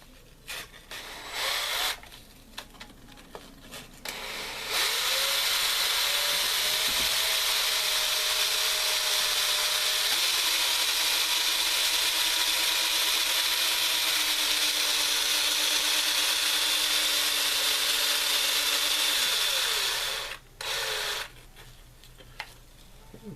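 A drill spins a strip of sandpaper against a copper piece, producing a loud, steady abrasive whir that runs continuously for about fifteen seconds. Brief starts and stops of the tool come before and after it.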